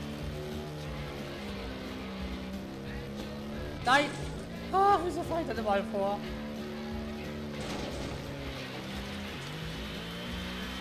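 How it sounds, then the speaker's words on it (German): Engine of a buggy being driven in Slaps And Beans, a steady mid-pitched drone with a couple of revving surges, under excited German speech from a player. "Das Buggy steuern ist nicht gerade einfach."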